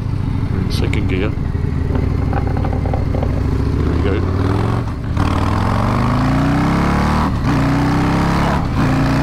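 Harley-Davidson Breakout 117 motorcycle accelerating hard in second gear, its loud, deep engine rising steadily in pitch, close and continuous with wind noise, a rider speaking over it.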